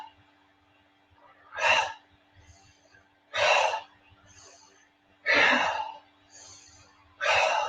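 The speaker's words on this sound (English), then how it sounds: "So it's inhale. You're exhaling, you're exhaling, you're exhaling, out." A person breathes deeply in a slow rhythm, with four loud, airy breaths about two seconds apart and softer inhales between them, close to the mic in a quiet room.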